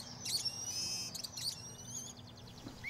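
A common blackbird calls with repeated bright, whistled phrases and chirps, clear and fairly close over a quiet outdoor background with a faint steady hum.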